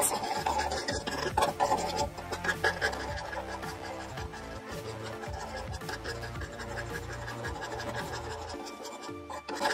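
Spoon stirring butter and marshmallows melting in a pot, a close, repeated scraping and rubbing against the pot in an uneven rhythm, with no talking.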